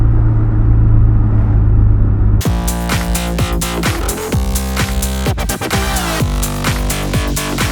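A 1984 Toyota Celica Supra on the move, its engine a loud, steady rumble that suddenly swells into a bright, strained roar as the revs climb and shift, close and continuous throughout.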